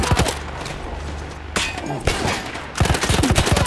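An anti-aircraft gun in the Battlefield 1 campaign fires loud, rapid bursts of close shots, with a steadier stretch in the middle before a dense final volley.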